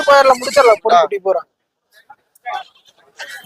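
Goat kids bleating at a busy livestock market, loud and close at first, then short fainter calls trailing off amid background chatter.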